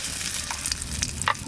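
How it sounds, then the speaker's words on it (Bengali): Bay leaf and dried red chili sizzling in hot oil in a pan, a dense continuous frying crackle with a few sharper pops and light stirring, close and steady. "তেল দিচ্ছি, তেজপাতা, শুকনো লঙ্কা,"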